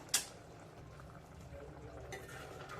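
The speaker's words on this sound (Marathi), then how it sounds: "मस्त उकळी आलेली आहे" A pot of Agri-style curry simmers with soft, faint bubbling, preceded by a sharp clink at the start.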